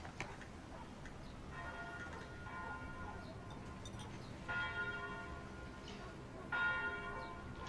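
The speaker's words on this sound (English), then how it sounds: "I like the bells. I like to hear that there is life waiting for us." Church bells ring in slow, repeated peals, fairly distant and soft, over a steady background hiss.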